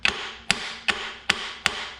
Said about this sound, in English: Just hit it gently.